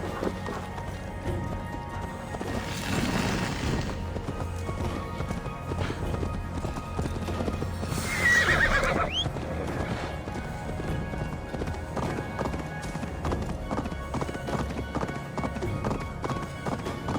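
In a video game set in England, a horse's hooves clip-clop in a steady rhythm over ambient background sound, with a couple of snorting whinnies rising above it partway through.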